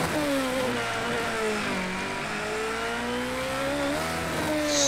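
A race car engine in a racing game revs at high pitch, loud and close, its tone sliding down and rising again as it holds a steady whine throughout.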